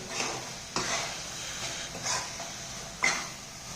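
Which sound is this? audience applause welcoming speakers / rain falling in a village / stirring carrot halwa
stirring carrot halwa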